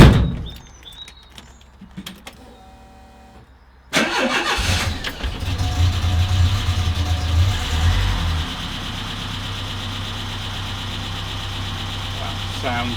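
A MK1 Renault Trafic van with a swapped-in 2165cc engine sits quiet, then cranks and catches with a loud start, revs briefly and settles into a steady, close idle.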